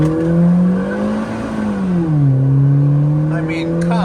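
Mini Cooper engine pulling under acceleration with traction control off, a loud, steady droning note that dips and then climbs again, heard from inside the car.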